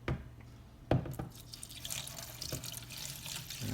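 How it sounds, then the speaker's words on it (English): Water is poured into a Hornady Lock-N-Load 2L ultrasonic cleaner, with close splashes and dripping and a brief trickling pour that falls in uneven spurts. "So I'm going to go ahead and pour this water in."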